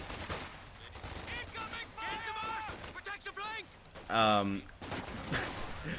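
MG34 machine gun and rifle fire in a World War II strategy game, faint scattered shots and short bursts rattling in the background beneath tonal voice chatter and a loud shout.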